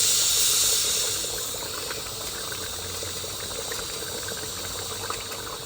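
Chicken salan curry boils in a pot with a soft, steady hiss and faint bubbling at moderate distance, a bit louder at first and then settling, no speech.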